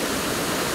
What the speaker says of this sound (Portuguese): nós viemos aqui na Cachoeira da Fumaça